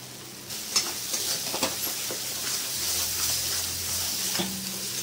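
Spices with kasuri methi stir-fried in a pan, a steady close sizzle broken by sharp scraping taps of a spatula, with no talking.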